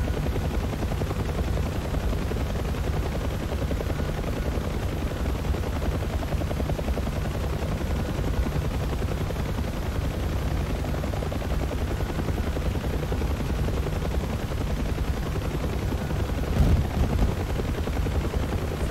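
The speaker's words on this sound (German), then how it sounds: "Wir werden beschossen von irgendwo." Gunfire aimed at a UH-1H Huey helicopter in DCS World, heard from inside the cockpit under a steady, loud rotor and engine drone, with scattered faint impacts and one sharper hit late on.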